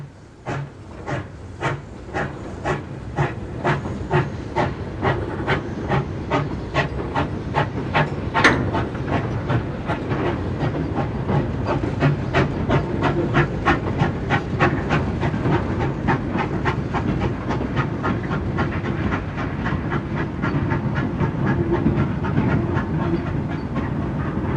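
A GWR 0-6-0 pannier tank steam locomotive hauls a freight train on the Dart Valley Railway, its exhaust beats chuffing steadily and quickening under a constant steam hiss, with rail clatter throughout.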